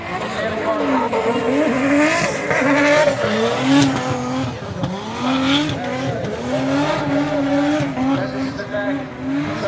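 A drift car at Mondello Park during the Irish Drift Masters 2024 screams along with a loud, sweeping engine rev and continuous squealing, skidding tires, close and sustained throughout, with a commentator talking over it.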